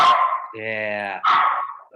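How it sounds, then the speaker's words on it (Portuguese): A small dog barks in sharp yips close to the microphone, with a sustained whining, tonal bark in between, loud and alone. "tem um cachorrinho latindo"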